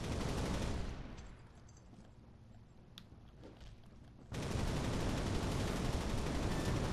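Dense automatic gunfire from the video game Loadout, a loud continuous fusillade that drops to a quieter stretch with a few isolated shots before resuming at full intensity.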